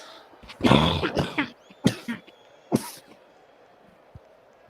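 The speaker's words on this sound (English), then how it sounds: "If you're wondering why I'm coughing quite a lot, that's the reason why." Several harsh coughs from a person with a cold come close to the microphone, a cluster followed by two more separate coughs, with quiet background between them.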